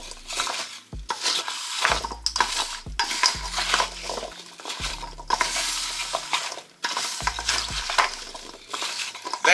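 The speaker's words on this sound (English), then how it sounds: "Just gonna stir it up and mix it all in." A butternut squash mixture is stirred by hand in a pan with repeated scraping, sloshing strokes and light clinks of utensils against the pan, close and fairly loud, with no talking.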